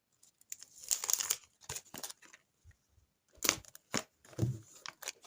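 Crinkling of a paper packet in bursts, handled up close with short pauses between rustles.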